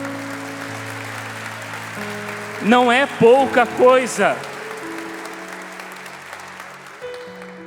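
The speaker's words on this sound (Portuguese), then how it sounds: "Você pode aplaudir isso?" A church congregation claps, but only faintly in the background, while a preacher keeps speaking over it in a rising, melodic voice throughout.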